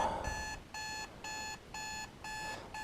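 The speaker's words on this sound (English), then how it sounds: "the alarm clock is going off" Alarm clock on a farm ringing in regular electronic beep bursts, about five evenly spaced pulses, fairly faint and alone without talking.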